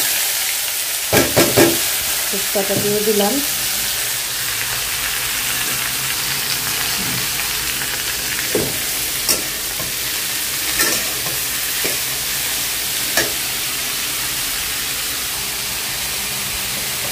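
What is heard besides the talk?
chillies and other food frying and sizzling in a pan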